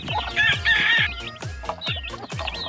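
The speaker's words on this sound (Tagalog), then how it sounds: "At tayo po ngayon mga kaibigan ay magpapatuka na po ng ating maalagang sisiw." Chicks and chickens cluck and peep loudly at a small coop during afternoon feeding, a busy series of sharp repeated calls close by, with no talking.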